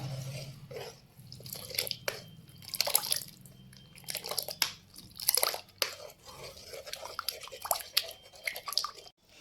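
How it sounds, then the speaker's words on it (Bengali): Curd being whisked for misti doi: a quick series of irregular wet clicks and slaps from a whisk in a bowl, close and fairly quiet, coming in bursts, with no talking. "হুইস্কার দিয়ে ভালো করে ফেটিয়ে নেব"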